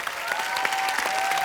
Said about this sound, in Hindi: हमारे साथी कलाकारों के लिए जोरदार तालियां